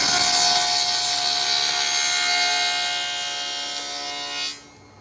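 A chop saw cuts through wood in a loud, sustained shrill whine that holds steady for about four seconds, then drops off sharply as the blade finishes the cut, leaving only quiet room tone.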